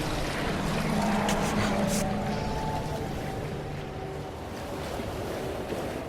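In BioShock, the broken tail section of a plane's fuselage sinks into the open ocean at night, with a continuous wash of churning water and surf under gusty wind and a faint low rumble.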